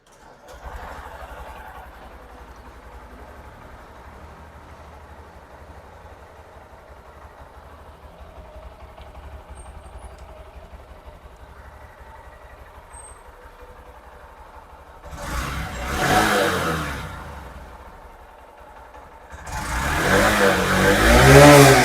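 Honda SP 125 BS6 2024 motorcycle exhaust, a faint steady idle for most of the time, then two short louder revs of the throttle near the end.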